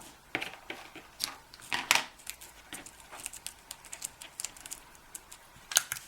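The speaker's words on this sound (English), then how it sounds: "going to wrap it around this blue piece with just a piece of Scotch tape" Scotch tape is pulled and wrapped around a blue paper card piece, giving a run of close, light crinkles, taps and rustles of paper and tape in an irregular rhythm, with no voices.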